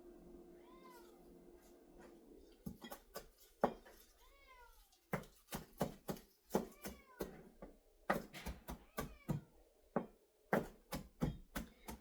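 A cat meows repeatedly at close range beside an oven, with sharp clatters and knocks of kitchen pans interspersed between the cries.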